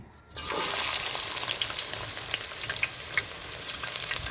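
Onions, green chillies and curry leaves hit hot oil with a sudden burst of loud, crackling sizzle that keeps spitting and popping steadily close by.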